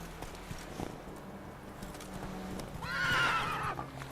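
Roach, a horse in The Witcher 3 video game, gallops with steady clip-clop hoofbeats, then gives a loud whinny near the end, close and clear over a game background.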